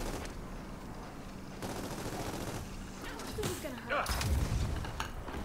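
Sustained gunfire from the Gears of War 4 video game, a dense rattle of shots with booming impacts swelling near the end, running under loud battle noise.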